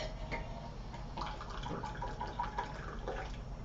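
Water pouring out of a bottle during a beginners' Chen style tai chi class, a steady gurgling stream with small splashy ripples, close and moderately quiet, with no talking.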